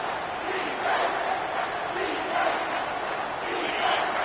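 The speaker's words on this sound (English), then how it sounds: "the crowd's giving them some juice" Football stadium crowd cheering during a college game between Virginia Tech and Miami, a dense, continuous roar with swelling waves of yelling, loud and sustained throughout.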